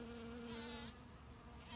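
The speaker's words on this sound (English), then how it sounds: "And this is a buzzing bumblebee that Cynthia talked about" A bumblebee buzz pollinating on catmint flowers gives a close, continuous droning buzz with a strong steady hum, briefly rising in intensity midway.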